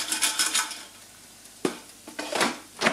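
A Silvercrest SHF 1000W oil-free air fryer basket being shaken mid-cook, with a rattling burst of tumbling fries and clattering metal at the start, then a few sharp knocks and shorter rattles after a quiet pause.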